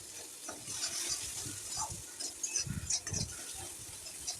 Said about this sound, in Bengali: এবারে আমি পেস্ট করা কাজু আর পোস্ত দিয়ে দেবো। এটাকেও আমি ভালো করে কষিয়ে নেব।